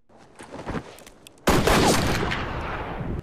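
Gunfire from the western film True Grit (2010), a loud sudden burst of shots with a crackling, echoing tail after some quieter scuffling sounds, no talking.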